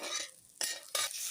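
Dried red chilies, torn by hand, sizzle in hot oil in a pan while being stirred, with two sharp, loud scraping stirs over a steady crackling fry.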